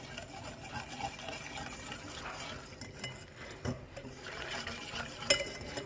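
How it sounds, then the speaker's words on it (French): A spoon stirs a frangipane cake filling mixture in a pan, a soft, continuous scraping and swishing with a faint clink of metal near the end, quiet and close. "Je mélange."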